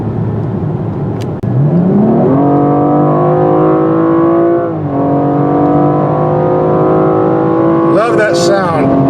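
A BMW 2-Series with the inline six-cylinder turbo engine accelerates hard from inside the car, the engine note climbing loudly in a smooth rising pitch, dipping at a gear change, then pulling again steadily.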